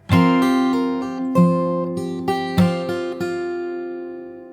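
A fingerpicked acoustic guitar plays a slow passage that includes a pull-off, with a string of clear, ringing plucked notes close up, each one decaying into the next, and no talking.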